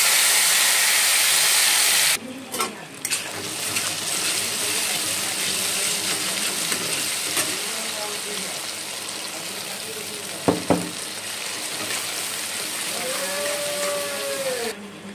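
Cashew and melon seed paste fries in a pan of oil and whole garam masala for a vegetarian paneer dish: a loud hissing burst at first, then a steady close sizzle with occasional stirring clatter.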